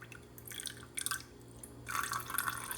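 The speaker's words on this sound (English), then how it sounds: "Let's go add the vinegar to the oil." Vinegar is poured into oil for a kitchen science experiment, giving faint, close trickling and dripping splashes in a few short bursts, the last one longer, with no talking.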